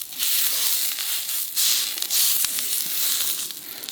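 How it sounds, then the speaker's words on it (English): Tomahawk steaks sear on a camp grill, giving a steady loud sizzle broken by crackling pops and bursts, close up with no talk. "Get a nice heavy sear on those edges."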